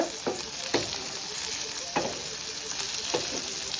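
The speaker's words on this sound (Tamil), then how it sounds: "இந்த மாதிரி நல்லா வதக்கி விட்டுக்கோங்க." Stuffed brinjals sautéing in a pan for a kuzhambu, a continuous close sizzle punctuated by several sharp stirring scrapes at irregular intervals, with no speech.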